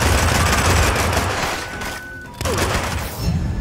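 Sustained machine gun fire in the video game Hitman, dense rapid bursts that roar loud and continuous, briefly dip, then resume with a new volley.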